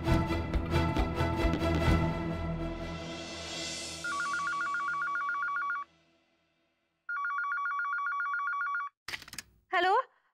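A telephone rings during an outgoing call, heard as two long electronic ring bursts separated by a pause. Voices talk before the rings, and brief speech follows.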